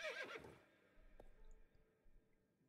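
A horse in the video game Star Stable Online neighs briefly and loudly at the start, then fades into faint soft thumps and quiet background sounds.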